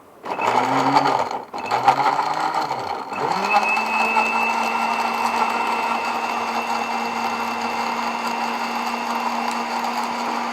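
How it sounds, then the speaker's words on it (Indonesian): A kitchen blender runs steadily and loudly as it purees cut grapes with garlic. The motor whines at one pitch after a few brief stops and restarts at the beginning. "Anggur yang sudah dipotong-potong ini baru kita blender bersama dengan bawang putih"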